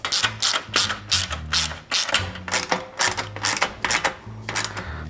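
A ratchet clicks in quick repeated bursts while a screw is tightened on a Pony moped being restored, loud and close with short rhythmic strokes and brief pauses.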